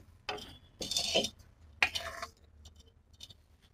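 Green chillies and cumin are pounded in a mortar for a mango and sweet potato chutney: three separate dull, crunching strikes, close and fairly quiet, with short pauses between them.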